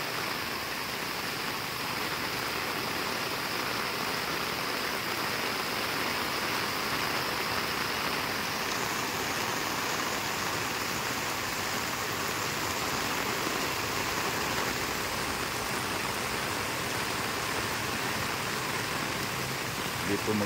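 Nonstop heavy rain pouring in Daet, Bicol, a dense even hiss of downpour on surfaces with running water, loud and unbroken throughout, no talking heard.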